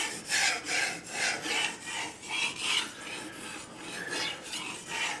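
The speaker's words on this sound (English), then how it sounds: "sharpen the knife till I get a corresponding 4000 grit wire edge on the top side" Kitchen knife drawn repeatedly across a 4000 grit whetstone, producing a steady rhythmic rasping scrape with regular back-and-forth strokes, close and moderately loud, with no talking.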